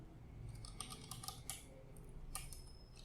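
Quiet clicking of keys on a computer keyboard while a command is typed at a terminal, irregular bursts of taps close up with short pauses between.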